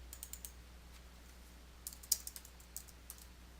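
Quiet, close keystrokes on a computer keyboard tap out email text in short irregular bursts, light clicks over a faint low hum.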